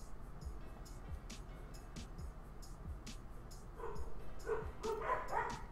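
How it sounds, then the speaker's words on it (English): Dogs bark in short bursts somewhere in the distance, faint at first and growing a bit louder toward the end, over steady low background rumble. "There they go. Now they start barking."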